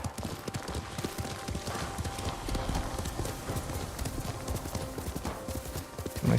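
Rapid clip-clop of horse hooves galloping steadily and close in Ghost of Tsushima, with a brief whinny-like sound near the end.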